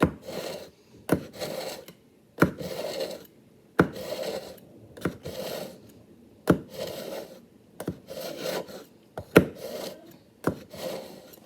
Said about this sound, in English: I want to just sharpen my knife again.